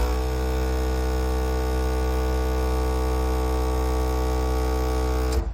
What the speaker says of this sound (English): if we push up on our lever, the compressor should kick on and start filling our bags up